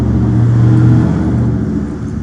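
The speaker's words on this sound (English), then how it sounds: "a car just, passing by" A car drives past close by with a loud, steady engine rumble and tyre roar that swells and then fades slightly.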